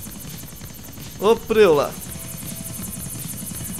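A helicopter flying in the video game GTA: The Ballad of Gay Tony gives a steady, buzzing rotor drone throughout, while someone speaks briefly over it.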